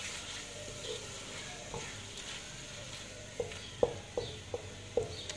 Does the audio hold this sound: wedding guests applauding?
no